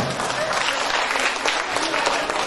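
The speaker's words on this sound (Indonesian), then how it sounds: "tepuk tangan dulu untuk kita semua" A crowd at a seminar claps continuously through a short stretch, a thick, even wash of hand claps with no talking.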